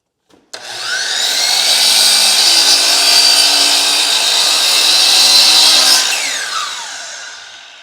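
A power saw bites into tall baseboard, a loud, close, continuous high-pitched whine that starts abruptly, holds steady for several seconds, then winds down.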